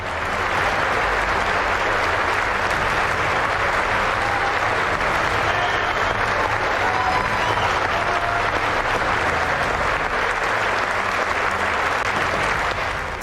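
Republican members of Congress give sustained applause during President Trump's address, a loud and unbroken roar of many hands clapping that fills the large chamber and holds steady from start to finish, with a faint voice beneath.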